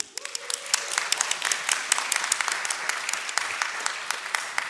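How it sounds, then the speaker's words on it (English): A congregation at a Sunday service breaks into applause, individual claps quickly swelling into steady, close clapping from a roomful of people that carries on for several seconds. "give her a round of applause anyway"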